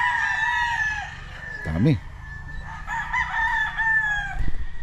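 Young gamecock stags of the Ewin's White and Black Kelso lines crow repeatedly at Ewin Game Farm, several overlapping calls ringing out near and far, with someone talking briefly among them.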